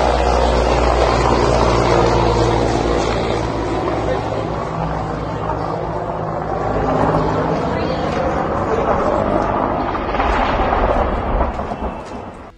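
A loud, continuous roar from the rotor of an Indian military helicopter carrying Chief of Defence Staff Bipin Rawat, on its last flight before it crashed. The sound fills the whole stretch, steady and close, with voices faintly mixed in.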